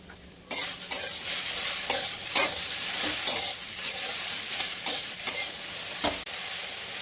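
Chopped okra sautéing in a pan, with a continuous sizzle broken by repeated scraping stirs of a spatula at a fairly even rhythm, close and clear with no talking.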